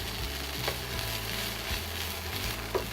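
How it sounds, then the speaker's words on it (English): Peppers, beans and corn sauteing in olive oil in a pan, a steady close sizzle and crackle with a faint stir or scrape near the end. "I'm just going to get on to sauteing our veggies, starting with our peppers"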